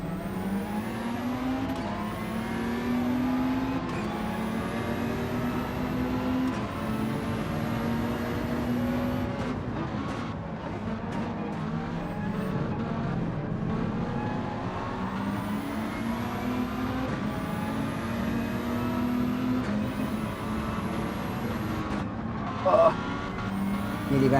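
Racing car engines in Gran Turismo 7 lobby racing, including a BMW, drone and rise through repeated gear shifts, a steady, loud mechanical whine climbing and dropping with each upshift, under a faint commentator voice.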